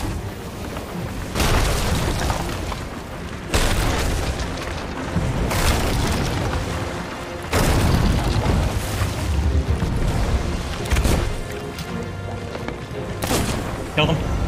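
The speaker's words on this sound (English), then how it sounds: "I got killed by a volcano." Repeated heavy booms and rumbling blasts from a volcano eruption in an online video game, loud and sustained in several waves, with players talking over it.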